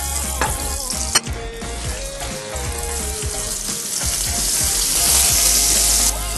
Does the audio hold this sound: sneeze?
no